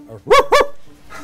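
A person imitates a dog with two quick, loud barks, followed by a faint trailing vocal sound.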